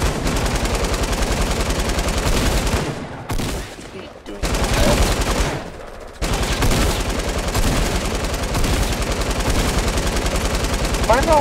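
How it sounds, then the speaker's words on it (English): An LMG light machine gun in the video game Fortnite fires long, dense bursts of rapid shots, loud and close, with a couple of short pauses between strings of fire. "I absolutely love the LMG."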